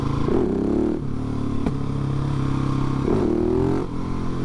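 A Husqvarna 701 S motorcycle engine revs hard and loud for a wheelie, two rising throttle sweeps around a steady drone, heard close with no talking.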